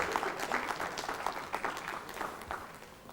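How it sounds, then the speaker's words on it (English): A seminar audience welcomes a speaker with a round of applause, steady clapping from many hands that carries through the whole stretch at moderate, fairly distant loudness, with no voices over it. "we all welcome him with a huge round of applause"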